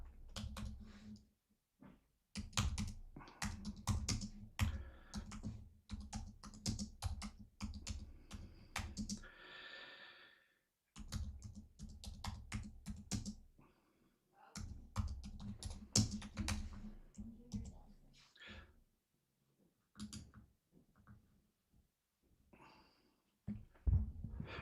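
Fast computer keyboard typing comes in bursts of dense, close clicking with a few short pauses, loud and steady for most of the stretch.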